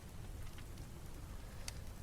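Steady rain falls outdoors as a soft, even wash of patter that carries on without pause, with one brief sharper hiss near the end; no one speaks over it.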